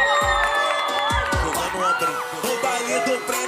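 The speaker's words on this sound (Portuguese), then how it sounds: "Vamos aplaudir a infância de Romeu e Julieta." An awards ceremony audience applauds, cheering and whooping, with shouts rising over a busy, sustained roar of voices.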